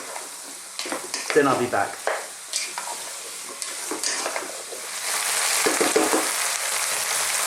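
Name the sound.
carrot and ginger sautéing on medium heat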